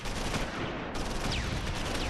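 Dense, continuous gunfire from the World War II video game Close Combat IV rattles without pause, a thick volley of overlapping shots at steady loudness over the short stretch, with no talking.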